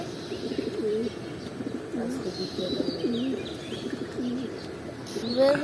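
Racing pigeons coo in a run of repeated, rolling calls close by, with a few light chirps scattered over a low background hum.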